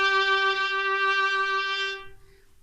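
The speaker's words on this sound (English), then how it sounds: "We have a lower point of contact, that's if the bow is closer to the fingerboard." A bowed string instrument with the bow near the fingerboard holds one soft, steady note for about two seconds, then stops, close and alone.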